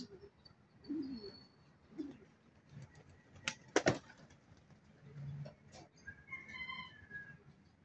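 Racing pigeons at a home loft on a morning exercise flight, with soft bird calls and cooing scattered across the clip, a sharp burst of wing flaps or clatter midway, and faint chirps near the end.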